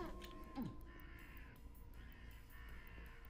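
Crows caw in a Halloween-themed Quake level, a few rough calls standing out over a low droning ambient background, fairly faint and somewhat distant.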